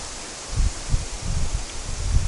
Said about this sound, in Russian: Ветер деревья гнет. Западный ветер поднялся.